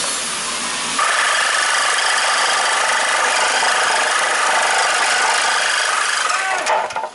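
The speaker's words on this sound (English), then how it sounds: "take the Mr. Sawzall, and cut off these phalanges" A Sawzall reciprocating saw cuts off metal exhaust flanges in a garage, a loud, continuous buzzing rasp that starts abruptly after a second and runs steadily before stopping.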